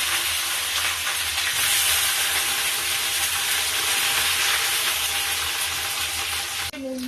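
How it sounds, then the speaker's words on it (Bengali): Capsicum fries in a pan with cumin, cinnamon, cloves, cardamom and bay leaves for a mutton curry. A steady, loud sizzle hisses throughout, with a brief clink near the end. "ক্যাপসিকাম ভাজা ভাজা হয়ে গেছে"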